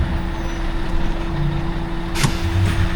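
A heavy tipper truck engine drones steadily with a constant mechanical whine of hydraulics raising the tipper, and a short sharp hiss of air cuts in near the end.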